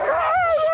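Excited sled dogs, Siberian Huskies and Malamutes, give a rising and falling high-pitched whine with yips, close and loud, with no talking over it.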